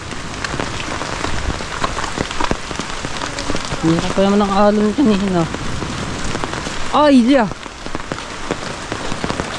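Heavy rain drums hard and without pause on a small hut. Voices speak briefly partway through, one rising in a sharp exclamation.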